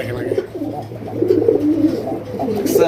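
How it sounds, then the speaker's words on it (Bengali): Pet pigeons of a fancy breed coo repeatedly close by, a low rolling rhythmic call that runs through the whole stretch, with soft voices in the background. "প্রত্যেকটা কবুতর ডাকে"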